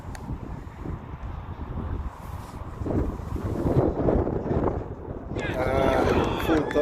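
Wind gusting across an outdoor cricket ground, a steady low rumble buffeting the microphone throughout and growing stronger toward the end, with faint voices in the background.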